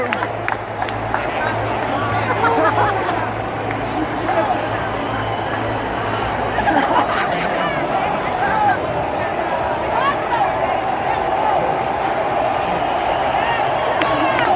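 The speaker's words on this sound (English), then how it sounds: "That's the roar of the real crowd." A steady, dense roar from a real crowd outside Wrigley Field during a Chicago Cubs wild card game, with babble and cheering heard from just off the third base side, continuous and unbroken.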